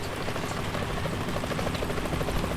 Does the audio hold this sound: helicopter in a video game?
yes